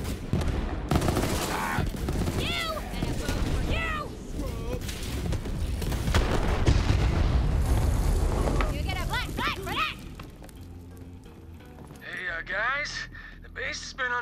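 Rapid gunfire and explosive booms in the Borderlands 3 video game, dense and loud bursts layered with game effects and a voice talking over the action.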